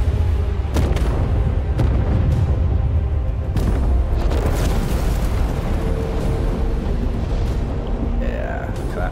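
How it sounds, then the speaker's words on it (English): A plasma cannon fires and explodes in the Space Marine 2 video game, a loud continuous roaring blast with deep rumble and crackling bursts that builds and sustains over several seconds. "Is that a plasma cannon?"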